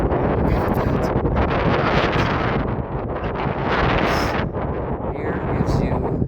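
Strong wind blows across desert dunes and buffets the microphone in a loud, continuous roar with rising gusts.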